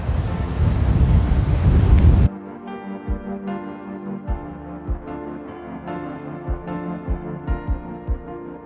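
Strong wind buffets a lagoon campsite in the Great Western Woodlands, with loud broadband rushing for about two seconds before it drops away to a quieter scene with soft intermittent thumps.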